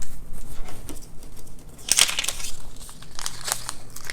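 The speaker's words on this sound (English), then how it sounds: "let me get some foam tape on this" Foam tape is handled for a papercraft card, giving close, quiet crinkling and crackling rustles with a sharper peeling burst in the middle and scattered soft handling noises around it.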